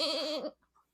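A single goat gives one loud, wavering bleat that lasts about half a second, then cuts off into near silence with a couple of faint small sounds.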